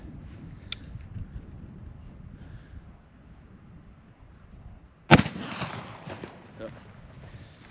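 A single Sharps .45-70 rifle shot fired outdoors at a distant target, one sharp loud crack with a rolling, decaying report, preceded by wind noise and quiet background rumble.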